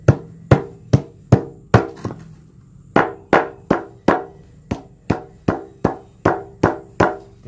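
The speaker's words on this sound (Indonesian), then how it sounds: "kulit kelapa yang sudah direndam ini dipukul-pukul menggunakan palu ya" A hammer pounds soaked coconut husk by hand to make cocopeat. About seventeen sharp, close, loud strikes land at a steady, quick rhythm, with one brief pause partway through.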